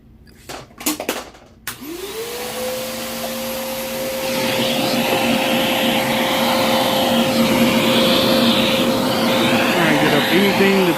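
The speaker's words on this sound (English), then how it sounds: "We'll run the vacuum in here a little bit more." A vacuum cleaner runs over a dirty Technics 1200 MK2 turntable, starting after a few knocks and rising to a steady, loud whine and whoosh that holds to the end.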